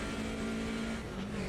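A BMW 2002 Turbo in Automobilista 2 at Hockenheim '77 drones steadily throughout with a strong, sustained engine tone that holds nearly level and shifts only slightly in pitch, loud and close.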